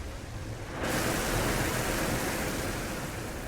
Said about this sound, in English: It actually sounds like it's thunder and lightning.